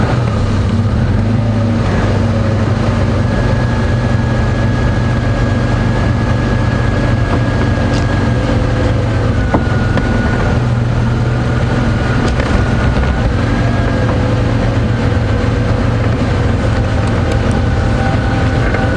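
A safari vehicle idling and running on an AM game drive at Djuma Game Reserve, a loud continuous engine drone with a low steady hum that holds throughout without speech.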